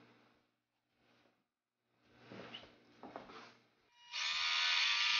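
A sewing machine runs a straight stitch through canvas, a brief hum starting near the end that builds to a steady, fairly loud whir after some quiet handling noises and short murmured voices.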